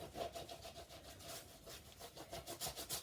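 A brush scrubs acrylic paint into the dips and cracks of an abstract painting's textured surface in a quiet, close, rhythmic rubbing that keeps going without pause.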